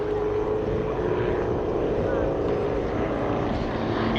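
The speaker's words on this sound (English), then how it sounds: "the 3 aircraft left in the main formation, running in for a break" A formation of three aircraft runs in for a break at an airshow on an airfield, a steady, broad propeller-engine drone holding constant and fairly loud throughout, with no distinct approach or fade.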